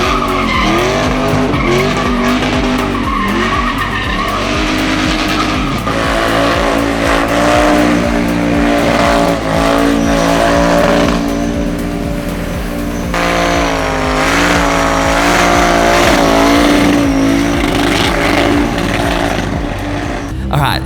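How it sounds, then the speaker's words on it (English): At a GTR car meet, engines roar and tires screech through burnouts and drifts, a loud continuous wall of revving and skidding with shifting pitch, with voices faintly mixed in. "Burnouts versus Drifters."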